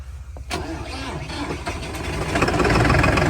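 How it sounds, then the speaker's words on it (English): A cold tractor engine cranks and catches at about half a second, then runs rough and loud, building in volume as it idles unevenly. "Starting the tractor up."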